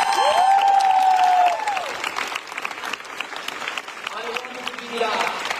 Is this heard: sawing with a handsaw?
no